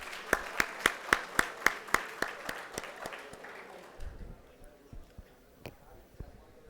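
A round of applause at an innovation conference's valedictory ceremony, beginning with a few loud, evenly spaced claps that thin out into scattered, fading clapping, with some talk in the background.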